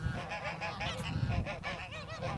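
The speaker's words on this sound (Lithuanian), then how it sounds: "Taip pat slėnis globoja pulką piktų sarginių žąsų" A flock of aggressive guard geese in a valley honks continuously in a busy, overlapping chorus, fairly faint and distant, with no talk.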